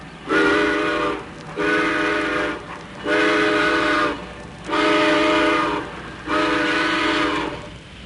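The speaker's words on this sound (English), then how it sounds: "The train is pulling out." Five long, loud harmonic blasts of a train whistle sound as a train pulls out toward the North Pole in an animated film, each blast lasting about a second with short gaps between.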